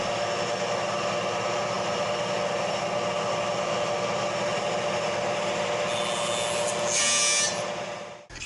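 A jointer roars steadily as wood blocks are fed through, with a brief sharper cutting burst near the end before the noise winds down.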